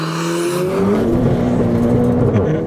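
Modified 506bhp MK7 VW Golf GTI Clubsport engine starting up, then settling into a steady, loud idle with a rising tone right after firing, close by and continuous.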